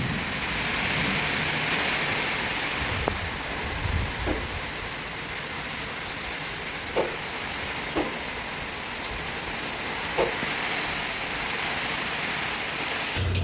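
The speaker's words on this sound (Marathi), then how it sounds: "वारा आहे, पाऊस पण आहे की." Steady rain with wind in the evening, a dense even hiss that fills the whole stretch, broken by a few faint knocks and drips. No one speaks.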